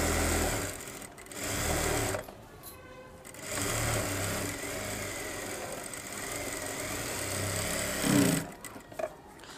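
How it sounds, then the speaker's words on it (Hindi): Sewing machine stitching piping into the slit of a suit, running in a steady close whir with brief stops and restarts. "अब हमको एक और सिलाई यहाँ पर लगा लेना है इसको"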